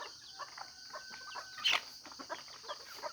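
An imported stag rooster at a backyard chicken farm clucks and calls softly at a distance over a steady insect drone, with one brighter, louder call in the middle.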